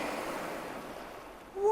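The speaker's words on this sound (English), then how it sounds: "If you hold a shell to your ear, you can hear the sea." A soft, steady rushing whoosh like distant surf, the sea heard in a seashell held to the ear, runs alone before a brief swell at the end.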